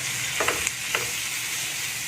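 Noodles tossed into spices frying in a pan produce a continuous close sizzle, with a few quick stirring scrapes and clinks in the first second.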